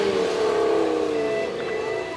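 A Ferrari and a Ford Focus RS racing at Alford Speedfest, one loud sustained engine drone with a shifting pitch, heard from close by with no clear speech.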